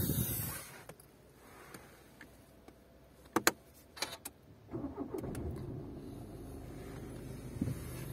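A 2017 Volkswagen Passat B8 2.0 TDI diesel starting: a few sharp clicks and clunks, then the engine catches about halfway through and settles into a low, quiet idle, close by.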